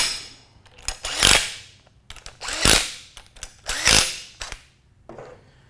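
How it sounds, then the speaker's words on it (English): Power tool snugging down bolts during a disc brake conversion kit installation, three separate loud bursts of whirring and rattling about a second apart, each rising and cutting off, with quieter clicks between. "I'm going to snug all our bolts down."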